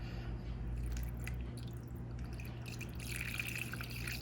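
Pickling liquid is poured over cucumbers packed in a container, a steady wet trickle with drips and splashes that brightens toward the end, over a low background hum.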